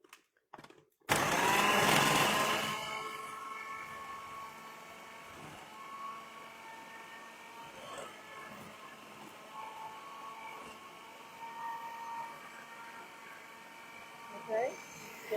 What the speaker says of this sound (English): The only thing we need is a grater. So I'm going to use, can turn a bit noisy here, like that.